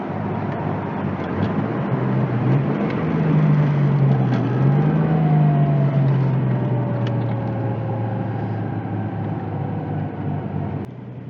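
An RB20DET-swapped Nissan S13 240SX is driven, with a loud, steady engine drone heard from inside the car and pitch sweeps rising and falling as it accelerates and shifts, with no talking.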